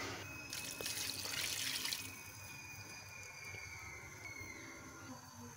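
Water poured into marinated mutton with chopped tomatoes in a pressure cooker, a near splashing gush that is strongest at first and then settles into a softer trickle, over faint kitchen background.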